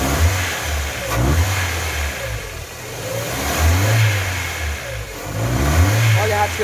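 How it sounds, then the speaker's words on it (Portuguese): A Ford Fiesta with a 1.0 8v engine, weak and hard to start, revs repeatedly with an uneven, stumbling note that rises and falls in surges, close up and fairly loud. "Vamos acelerar ele por aqui mesmo. Vamos acelerar aqui, ó."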